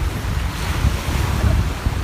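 Sea waves wash onto a beach in a steady, loud rush, with gusting wind buffeting the microphone throughout.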